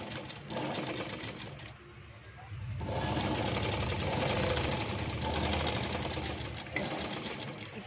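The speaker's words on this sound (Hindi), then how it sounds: "जैसे जैसे हमारा गला कटा है वैसे वैसे आपको सिल लेना है" Sewing machine stitching a potli-style neck design, a fast, steady mechanical whirr and rattle, close and continuous, briefly slowing and pausing before running again at full speed.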